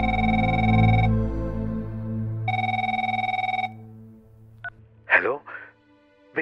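An old-style telephone rings in two long bursts separated by a pause, followed by a few brief clattering sounds as if the receiver is picked up.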